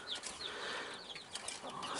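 A small young rooster with a rose comb clucks faintly among a flock of chickens and hens being fed watermelon, with soft, scattered calls and some rustling over about two seconds.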